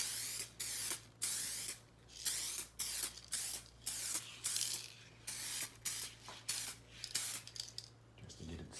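A spray can lightly dusts a car headlight during headlight restoration, giving about a dozen short, close hissing bursts in a quick, regular rhythm.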